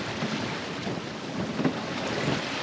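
Steady wind rushing across a heeled sailboat under full sail in about 17 knots, a constant broad roar with low buffeting and a few soft water swells beneath, no voices.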